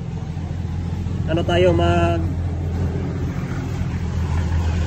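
Steady traffic rumble from cars passing outside fills the background, with a short burst of speech over it.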